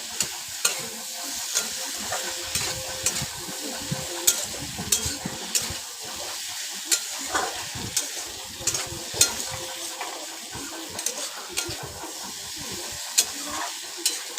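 Vegetables are fried and stirred in a pan, with a soft continuous sizzle broken by regular scraping strokes of a spoon about once a second.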